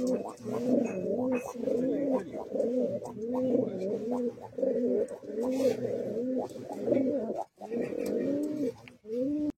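A breeding pair of pigeons at a loft coo repeatedly in a steady run of rolling, throaty calls, close and clear, with brief breaks near the end.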